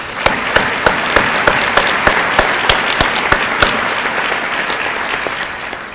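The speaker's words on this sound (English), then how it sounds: "So a big round of applause for all those folks." A graduation audience claps for the advancement team and facilities crew, a loud, sustained wave of applause with a few sharp, evenly spaced claps standing out near the front, tapering slightly toward the end.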